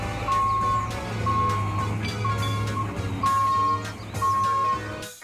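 A concrete mixer truck gives off a steady series of reversing beeps, about five even pulses over a continuous low engine drone, fairly close and loud with no talking.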